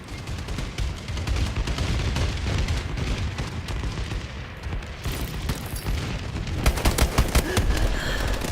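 Dense, continuous gunfire and booming blasts of an aerial bombardment in a Call of Duty: Advanced Warfare multiplayer match, rapid bursts layered over rumbling explosions for the whole stretch, with sharper close shots near the end.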